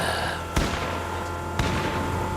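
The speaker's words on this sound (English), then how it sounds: "I hear gunfire" Gunfire in an online video game: two sharp, separate shots about a second apart, punching through a steady low background hum.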